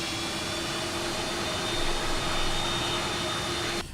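A Boeing 757 jet engine in the X-Plane 12 flight simulator game runs as a loud, steady, unbroken roar with a constant whine, heard alone without talk.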